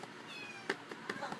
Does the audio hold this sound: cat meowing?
yes